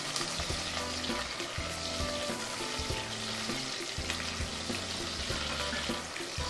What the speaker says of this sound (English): I'm adding in my onions and peppers as the base. I'm going to saute these until they're translucent for about 1 to 2 minutes.